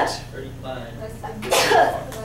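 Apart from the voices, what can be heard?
sneeze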